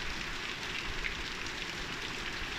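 A heavy rain downpour hammers down steadily over a farm field, a dense, unbroken hiss of falling water close around the listener, with no voices.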